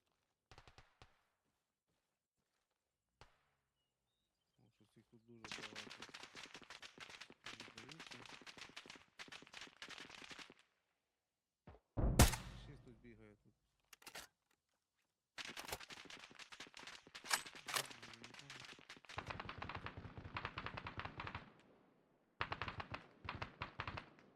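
Bursts of gunfire in the military shooter Arma Reforger, sharp shots and rapid volleys coming in clusters separated by short quiet gaps, with one especially loud close blast partway through.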